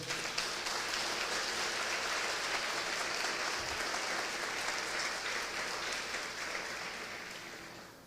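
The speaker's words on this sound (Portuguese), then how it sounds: "Pode aplaudir o Senhor." Sustained applause from a church congregation during a sermon, a dense, steady wash of clapping that fills the space and fades slightly toward the end, with no talk over it.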